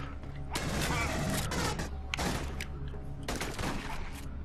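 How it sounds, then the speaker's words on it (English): Gunfire in the video game Aliens: Colonial Marines, with several loud bursts of shotgun blasts separated by brief gaps, over a low steady game hum. "I shotgunned his leg off"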